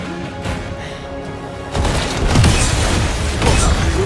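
A flashbang detonates in a 007 video game: quiet rumbling gives way to a sudden loud blast partway through, followed by a sustained roaring ring.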